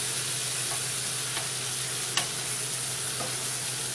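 Chicken pieces browning in hot shortening in a pan give a steady close sizzle and frying hiss, with a few faint ticks and one sharp clink of a utensil.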